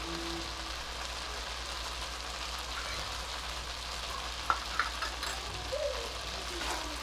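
Khichdi masala and goda masala are sautéed with mixed pulses in a pot, giving a faint, steady sizzle under a low hum, with a couple of brief clinks from stirring and no voices.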